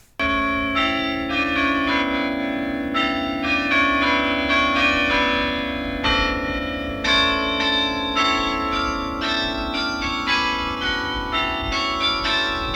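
Church bells ring out loudly in a continuous, overlapping peal, with repeated strikes layering over a sustained resonant hum.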